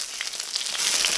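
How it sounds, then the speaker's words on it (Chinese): Yellow rice wine splashes into a hot pan holding freshly caught wild fish, giving a brief bright sizzle and crackle of frying, close and steady, with no voices. "倒少量黄酒"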